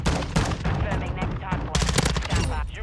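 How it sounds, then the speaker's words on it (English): Dense, rapid automatic gunfire and scattered shots crackle loudly and nearly nonstop in a Call of Duty Modern Warfare 2 multiplayer match, close and overlapping bursts with faint chatter underneath. "He's just shooting at walls."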